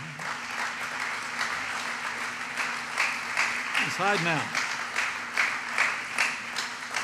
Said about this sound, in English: Would you join me in giving a round of applause for Mark Paulillo?